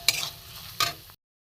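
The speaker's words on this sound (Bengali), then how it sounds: "মশলাগুলো একটু সব ঢেলে দেবো, দিয়ে একটু কষিয়ে নেবো ভালো করে।" Spices being stirred and sautéed in a pan over a wood-fired clay stove, two distinct scraping stirs with a soft sizzle between them, fairly quiet and close, then cutting to silence.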